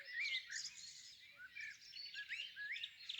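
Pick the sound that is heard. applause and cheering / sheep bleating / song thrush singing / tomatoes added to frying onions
song thrush singing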